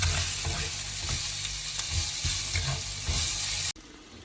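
Onions sizzle and fry in a pan for a spicy Jaffna-style mutton curry, a loud steady crackle with intermittent stirring scrapes, cutting off abruptly near the end.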